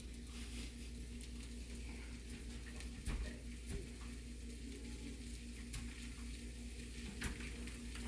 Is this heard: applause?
no